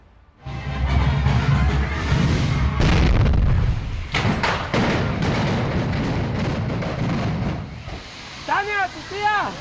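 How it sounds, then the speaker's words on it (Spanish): Fireworks explode during a patronal festival celebration in Amatitán, Jalisco. Heavy booming blasts and crackling bursts sound close and loud, followed by sustained noisy rumble and a few whistling shells toward the end. "La falta de precaución con el uso de pirotecnia provocó esta explosión que acabó"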